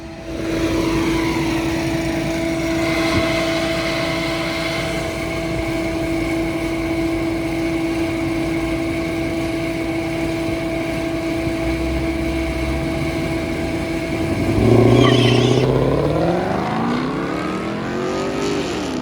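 A car making a drag strip pass at a track day: a steady, loud engine drone holds for many seconds, then rises sharply in pitch as it accelerates away near the end, with no talking.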